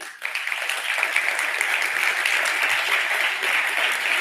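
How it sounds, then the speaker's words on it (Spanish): Sustained, dense applause from a crowd fills the hall at the closing ceremony of the FiCMA 2015 international film festival, honoring its president and founder, Claudio Lauria; steady and fairly loud throughout with no break. "Un aplaudiment per ell"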